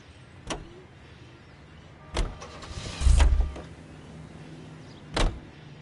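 Car sounds in the Reefer Madness video game: sharp door-like thumps at intervals and a brief whirring motor burst, over a low steady hum, with no talk.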